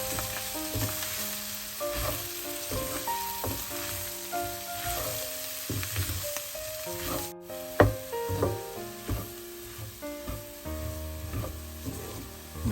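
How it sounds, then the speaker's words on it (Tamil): Fish and mashed potato are mixed in a hot pan for fish cutlets, with a steady close sizzle under repeated scraping and stirring strokes and occasional sharper knocks, and no speech. "இனிமே இதுக்குள்ள மசிச்சு வச்ச உருளைக்கிழங்கு சேர்ப்போம். இனிமே இதையெல்லாம் நல்லா கலந்து விடுவோம்."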